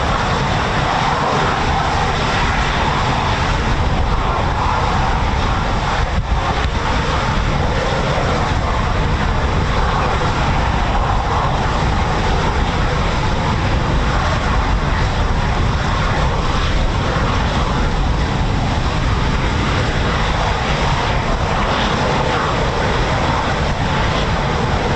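A Eurofighter Typhoon FGR4 jet at RAF Coningsby's QRA station roars with its twin engines, producing a loud, unbroken broadband rumble and hiss that holds steady for the full stretch.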